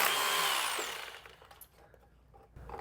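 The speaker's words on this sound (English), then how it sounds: "So it doesn't start chiseling till you engage, so you got to push hard to engage." Power chisel working against material while a GPS antenna is installed, a loud broadband grinding burst that fades after about a second, leaving quieter scattered clatter and a brief renewed rise at the end.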